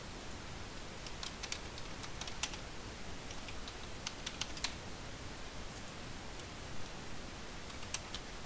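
Typing on a computer keyboard while entering a name into a database form, a steady patter of light key clicks with a few sharper taps, close and moderately quiet with no talk.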